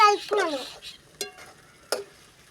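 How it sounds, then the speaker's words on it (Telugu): Potatoes frying in a pan being stirred, with a few short, distinct scraping strokes against the pan, close by, after a brief voice at the start. "దుంపలు అయితే వేసాడు చూడండి ఇప్పుడైతే కలుపుతాడు"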